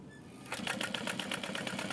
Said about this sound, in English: I'm just going to fold this in half and top stitch along that open raw edge